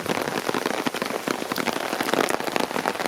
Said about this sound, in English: But the rain is sideways.